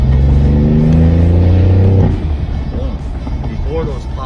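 A BMW i8 fitted with a custom titanium intake revs loudly up close, holding a strained rising engine note for two seconds before dropping off, with a voice speaking over the rumble afterward.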